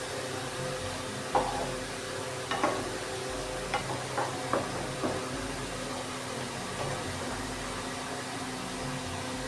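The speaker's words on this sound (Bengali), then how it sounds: "ঢ্যাঁড়স আর সর্ষে ভালোভাবে মিশিয়ে নেওয়া হয়ে গেলে" Okra with mustard paste being stirred in a pan, a low frying hiss under a handful of scattered spoon scrapes and taps at an uneven pace.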